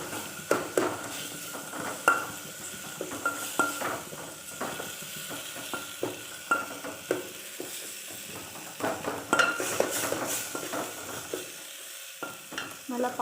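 Tomatoes being mashed and stirred into a green gram dal curry in a pan, with repeated scraping and tapping strokes of a spoon against the pot over a soft oily sizzle, fairly quiet and close.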